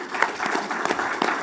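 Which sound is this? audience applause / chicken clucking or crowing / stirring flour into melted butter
audience applause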